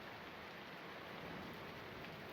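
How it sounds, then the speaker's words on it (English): Steady rain falls in a video game scene, a soft continuous hiss of drops with no break, alone. "with the rain in the background"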